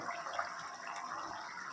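Mutton gravy boils in a pot, giving a steady, close hiss of bubbling with no voices.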